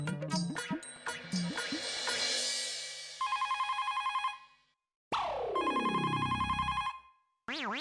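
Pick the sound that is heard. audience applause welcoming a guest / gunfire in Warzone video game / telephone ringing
telephone ringing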